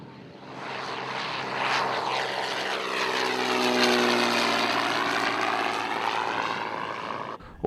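A propeller airplane rolls for takeoff at Jandakot airfield during a 2003 Centenary of Flight event. Its engine drone swells and sweeps in pitch as it passes, fairly loud and then fading with a whine near the end, with no voices.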